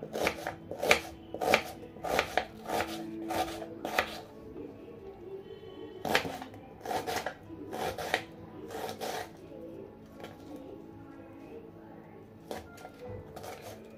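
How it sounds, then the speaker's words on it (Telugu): A knife chops onions into small pieces on a board, sharp taps arriving in quick clusters separated by pauses, close and fairly quiet. "ఇప్పుడు దీన్ని ఇలా చిన్న చిన్నగా కట్ చేసుకుంటాను"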